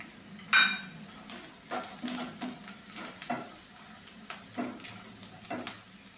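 Onion and roasted peanuts fry in a pan with a soft, steady sizzle, broken by a sharp utensil clink early on and repeated stirring scrapes, close by.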